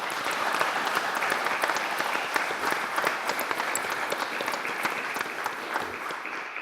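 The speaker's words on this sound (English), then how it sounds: "Let's give that session a big clap" An audience at a 2018 tribunal closing session breaks into a big round of applause, a loud, sustained patter of many hands clapping continuously from start to finish, with faint murmurs mixed in.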